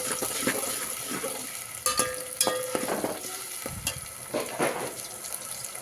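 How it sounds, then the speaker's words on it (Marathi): Masala of garlic, onion, turmeric and tomato sizzles in a pan for a mutton curry. A spoon scrapes and clinks against the pan in irregular strokes over a steady close frying hiss. "लाल होईपर्यंत हलवून घ्यायचं त्याला"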